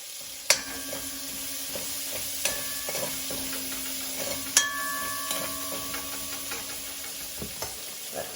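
Food sautéing in a pot for a brown stew of smoked turkey necks, a steady close sizzle with occasional sharp clinks and scrapes of a utensil against the pot.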